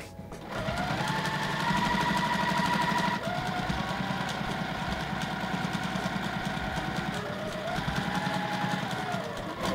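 A sewing machine runs continuously up close while stitching quilt binding, a steady rapid mechanical whir with a fast even needle rhythm that briefly slows and resumes, alone with no talking.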